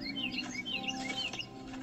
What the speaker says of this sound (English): He hears a quiet chirping in the branches above him.